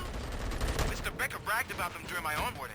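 Gunfire in the video game RoboCop: Rogue City, a run of sharp shots and bursts mixed under in-game voices and talk.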